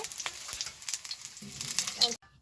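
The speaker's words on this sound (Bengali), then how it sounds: "বড়া ভাজার পরে যে তেলগুলো বাঁচেছে এই তেলের মধ্যে এই আলুগুলো আমি ভাজা নিব" Food frying in hot oil left over from frying fish roe fritters, a close, continuous sizzle and crackle with a few stirring scrapes, cutting off abruptly near the end.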